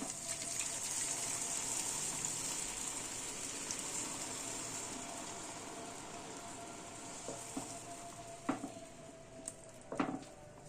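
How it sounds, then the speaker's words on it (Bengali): Water pours into a pot of potato curry in a steady rushing stream that slowly fades, followed by a few soft clinks of the pot, close and without talking. "এবার আমি জলটা দিয়ে দিচ্ছি"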